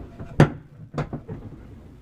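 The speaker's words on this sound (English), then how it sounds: "A little magnetic catch." A drawer in a converted Chevy Express van shuts onto a small magnetic catch, giving a sharp close thump followed by a couple of softer clicks as it settles, near and clear with no talk.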